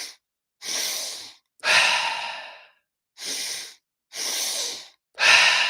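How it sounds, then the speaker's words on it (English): Deep breathwork breathing in a fast three-part pattern of two inhales and one exhale: six separate breaths, each a close, loud airy rush with short silences between them. "Inhale, inhale, exhale."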